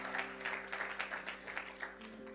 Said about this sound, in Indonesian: Boleh kok saudara kasih tepuk tangan sekali-sekali untuk Tuhan.